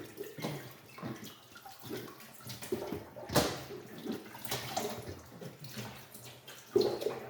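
Muddy eggplants are rinsed under a running kitchen tap, a steady splashing stream of water with brief louder splashes and knocks as the vegetables are turned in the flow.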